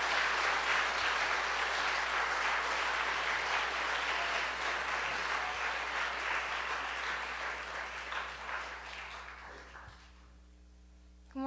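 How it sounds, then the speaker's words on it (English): A chapel audience at a Christian school gives a warm, sustained round of applause for a woman walking up front to speak, steady dense clapping that tapers off near the end. "if you give her a warm round of applause as she comes up front to talk to you guys"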